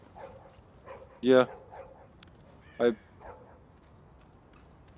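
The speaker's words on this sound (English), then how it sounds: "Oh, that's just a dog." A dog barks twice in the background during a co-op session of Tom Clancy's The Division, two short loud barks a second and a half apart, with people talking quietly around them.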